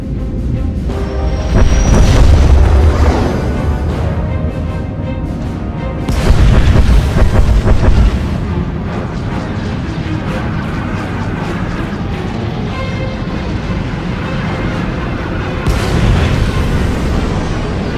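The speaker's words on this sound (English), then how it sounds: "Proceeding with bombardment, targeting all major population centers." Heavy rumbling explosions and booming bombardment fill a space battle over Corellia in Star Wars: The Old Republic, a continuous loud roar with stronger blasts swelling every few seconds.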